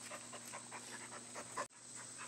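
Quick, rhythmic panting from dogs close by, soft breathy puffs repeating steadily over a faint background hum.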